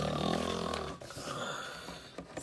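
A voice imitates snoring with a drawn-out, rumbling snore that fades into a quieter breathy snort, heard alone and fairly close.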